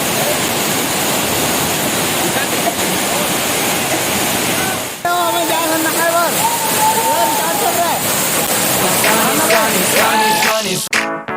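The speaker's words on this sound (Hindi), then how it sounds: "ये है छत्तीसगढ़ के फेमस वाटरफॉल" Ghatarani Waterfall in Chhattisgarh roars as a steady, loud wash of falling water, with people talking over it through the second half.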